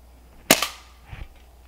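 A Crosman M4-177 pellet gun fires a single sharp, close crack, followed a moment later by a faint dull impact of the pellet striking its target; no one speaks.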